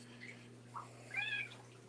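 A cat gives two short meows indoors, the second louder and more drawn out, over a steady electrical hum in a quiet room.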